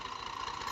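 A 2000-model Massey Ferguson 240 tractor engine idles steadily at close range, a continuous even mechanical drone with a faint rattling texture and no pauses over the brief moment.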